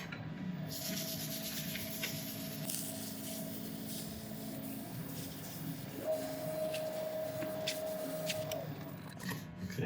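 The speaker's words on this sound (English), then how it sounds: "We rub this in, building the speed as we go along, starting slow and then increasing." A finish being rubbed onto a spinning woodturning on a lathe, a steady rubbing drone with whining motor tones that shift as the speed is raised, close and continuous.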